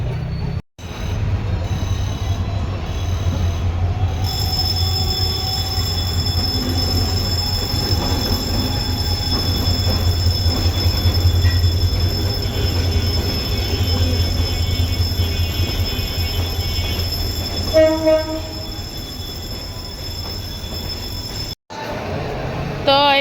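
Trains roll past a railway crossing where vehicles wait, with a steady loud rumble of wheels on track and high metallic squeals throughout. Voices talk intermittently nearby.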